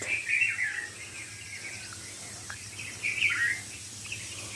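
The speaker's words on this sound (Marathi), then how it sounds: "आता चिमण्यांचा पक्ष्यांचा किलबिलाट सुरू झाला आहे" Sparrows chirp in quick, bright bursts at a moderate distance, with quieter gaps between calls over a faint background hum.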